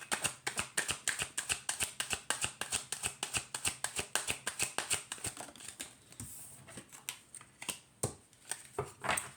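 A deck of oracle cards is shuffled by hand, giving a rapid, steady run of crisp riffling flicks close up, with a brief looser pause before the rhythm resumes.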